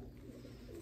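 Racing pigeons in a loft coo softly, a low murmuring heard faintly at close range.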